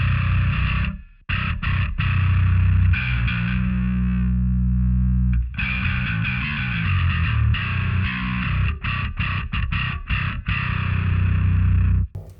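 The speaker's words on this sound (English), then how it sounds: "So we've got a ton of distortion there" A heavily distorted bass guitar recorded through a B7K pedal plays loud, fuzzy sustained notes and short choppy phrases with abrupt stops, alone with no voices.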